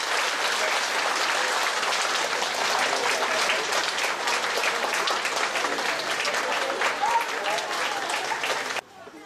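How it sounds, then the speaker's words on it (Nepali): An audience at a Hong Kong concert night claps loudly to welcome a performer, a dense, sustained roar of many hands lasting nearly nine seconds before it cuts off abruptly. "सम्पूर्ण दर्शक महानुभावहरूले एकपटक ताली बजाएर उहाँलाई स्वागत गरिदिनु हार्दिक"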